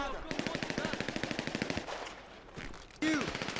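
Rapid automatic gunfire in GTA V, a fast regular burst of shots for under two seconds followed by a few more scattered shots and a sharp louder crack near the end, fairly faint in the mix.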